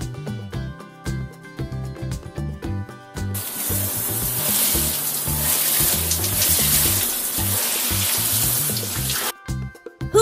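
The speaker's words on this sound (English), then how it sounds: "Now we press this button and see the water falling." Water pours steadily from the waterfall feature of a Peppa Pig toy pool for several seconds, a close, continuous splashing rush that starts abruptly and stops, with toy music playing before and after.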